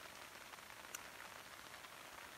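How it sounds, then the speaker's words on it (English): Rain falls on a tent tarp at a winter frozen-lake camp, a dense, steady patter of drops heard close and softly, with no voices. "It's pouring out."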